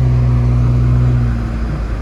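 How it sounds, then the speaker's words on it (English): Vehicle on snow tires driving through about five inches of snow, a steady, close engine drone with a low hum and constant road rumble, continuous and without talk. "The snow tires on this vehicle are working out great."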